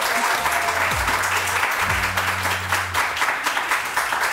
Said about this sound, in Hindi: आप लोग तालियां क्यों नहीं बजा रहे हैं?